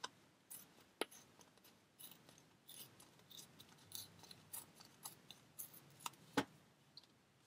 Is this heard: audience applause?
no